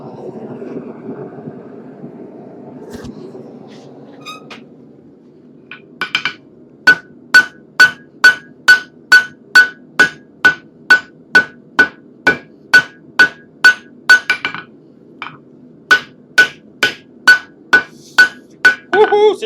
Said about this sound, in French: Donc, on va faire la première soudure.